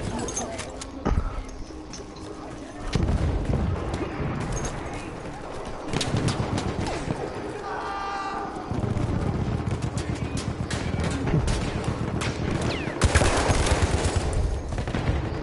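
Gunfire in the World War I shooter Battlefield 1: dense, continuous rattling volleys at mid distance, with bursts of rapid shots swelling and fading, an overlapping din of battle and faint voices underneath.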